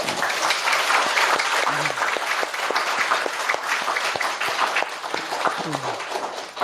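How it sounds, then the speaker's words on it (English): An audience applauds steadily, a dense wash of many hands clapping at even loudness throughout, with a faint voice briefly audible underneath. "You should applaud them."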